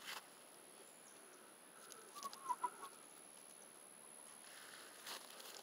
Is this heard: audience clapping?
no